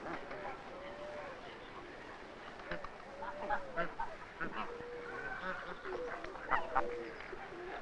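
Mallard ducks and a greylag goose calling outdoors, a mix of quacks and honks, some close and some farther off, over a noisy background with someone talking over it.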